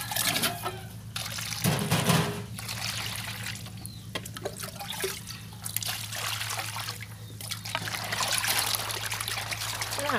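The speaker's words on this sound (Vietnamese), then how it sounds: "Mình rửa cho cái miếng tàu hũ của mình nó thiệt là mềm ra nha." Tap water runs and trickles steadily while tofu is rinsed for vegetarian Vietnamese cha lua, with splashing and shifting flow as the block is handled under the stream, close up.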